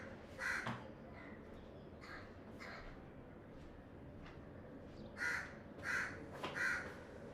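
A crow caws repeatedly nearby, harsh calls in a few separated bursts over a faint outdoor background, with no talking.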